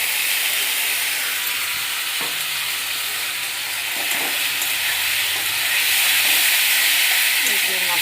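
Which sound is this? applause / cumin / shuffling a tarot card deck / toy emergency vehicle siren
cumin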